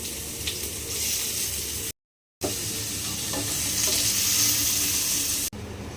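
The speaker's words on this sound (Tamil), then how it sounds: "வெங்காயம் போட்டு நல்லா வதக்கிக்கலாம்." Onions sauté in hot oil with mustard seeds and dried chilli, a loud, close, steady sizzle with the scrape of stirring, broken by a short cut to silence partway through.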